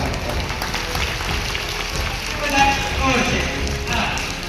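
Audience applause welcoming a chief guest at a charity event in India, a sustained dense patter of many hands clapping at moderate loudness, swelling slightly midway.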